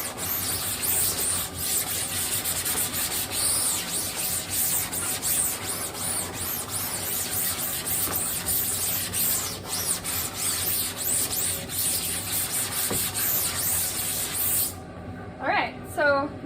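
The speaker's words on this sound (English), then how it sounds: "most of my image has been removed just through scrubbing" Photo emulsion is scrubbed off a screen printing screen, a continuous close hissing wash of water spray with rubbing strokes for about fifteen seconds, ending in a brief quieter stretch with a faint squeak.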